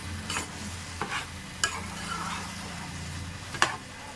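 Cucumber pickle being stirred after a spoonful of salt goes in, with a few scraping clinks of the spoon against the pot over a low steady background hum, near and moderately quiet.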